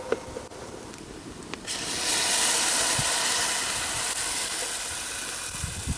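Onions fry in a pan for a dhaba-style tandoori chicken tikka masala, a steady hiss and sizzle that swells louder partway through and holds, with faint clinks early on and no talk.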